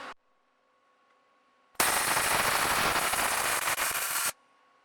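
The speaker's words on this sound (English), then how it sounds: "So I'll just go ahead and weld this all up" A welder lays a bead on a fabricated spring perch for a Volvo. After a quiet start, a loud, steady crackling hiss runs for about two and a half seconds, then cuts off abruptly.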